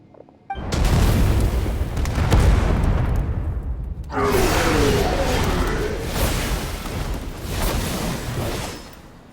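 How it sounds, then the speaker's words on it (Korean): Explosives detonating in the video game Genshin Impact: a loud, sustained boom with rumbling debris that surges again midway, then trails off with scattered bursts. "폭파!"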